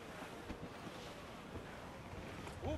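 A sailing ship pushes through a storm at sea in the Assassin's Creed IV video game, heard as a steady, faint roar of wind and waves that swells slightly near the end, with no talk.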